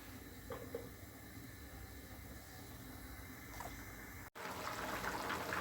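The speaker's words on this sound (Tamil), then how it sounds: "இப்போ நம்மளுக்கு தண்ணி பிறண்டு வந்துருச்சு" Steady hiss and low bubbling of water heating in a pot for coconut milk rice, with a brief cut and a louder, fuller bubbling toward the end as it comes to a boil.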